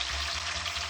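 Chicken sizzles briefly and steadily in a hot pan while being cooked for Azerbaijani-style Parda Pulao, with a close, even crackle.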